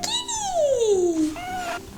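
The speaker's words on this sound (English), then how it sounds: "She's a kitty!" A pet cat meows loudly and close by, one long meow sliding downward in pitch, followed by a shorter, higher second meow.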